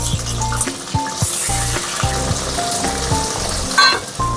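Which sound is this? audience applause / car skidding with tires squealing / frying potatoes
frying potatoes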